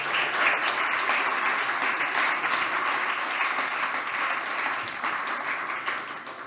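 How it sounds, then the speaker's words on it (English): Audience applause follows a startup pitch at an AI demo day event, a steady, dense roll of many hands clapping that holds evenly and tapers slightly at the end. "a big applause for Zintavo"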